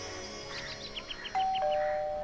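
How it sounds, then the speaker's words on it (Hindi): A doorbell used as a radio show sound effect rings a clear two-tone ding-dong chime over a faint background hum, the second tone lingering to the end. "संडे सुबह 7 बजे मिस्टर कुमार के घर की डोरबेल बजी।"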